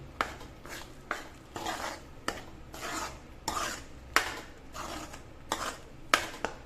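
Vegetable masala is roasted and stirred over low gas in a pan, with a spoon scraping in about a dozen short rhythmic strokes. The sound is fairly quiet and there is no speech.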